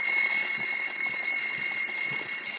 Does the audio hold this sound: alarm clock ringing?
yes